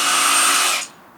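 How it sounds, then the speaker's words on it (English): A power drill pre-drills into Hardie siding trim in a single short, loud high-pitched whir that cuts off abruptly. "You pre-drill and then you drive"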